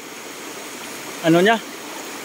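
River water flows steadily past an attempted dam of the riverbed, a constant rushing hiss broken by one brief spoken question in the middle.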